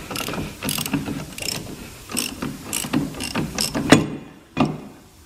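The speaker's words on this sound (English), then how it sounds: "now that it actually cracked loose, you can just do it with a normal ratchet" A ratchet loosens the lower ball joint nut on a Jeep Grand Cherokee, with short bursts of rapid clicking repeated about a dozen times, close and fairly loud, with no talk.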